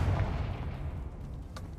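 A Confringo blast spell goes off in a Harry Potter video game inside a tomb, a loud low boom at the start that rumbles and fades over about two seconds, with a faint crackle near the end.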